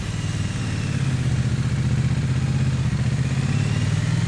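A Triumph Bonneville T100 motorcycle engine pulling through town at low revs, a steady, loud, close thrum with a deep pulsing beat throughout.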